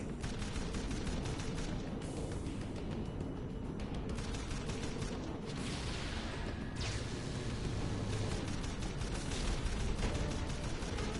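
Enemy guns fire nonstop in Jak & Daxter: The Lost Frontier, a dense, continuous barrage of shots and blasts with no pauses across the whole stretch.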